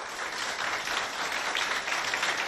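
A school audience at a children's competition event between two schools applauds, a steady wash of clapping hands that holds at an even, moderately loud level throughout without a break.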